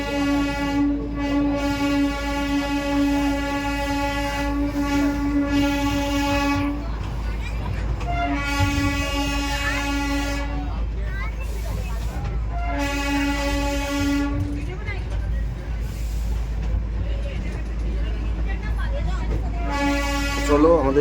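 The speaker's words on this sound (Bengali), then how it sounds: "আমাদের টয় ট্রেনের জয় রাইড মোটামুটি কমপ্লিট" Darjeeling toy train running with repeated long horn blasts, steady rumble of the carriages beneath; a voice speaks briefly in the background.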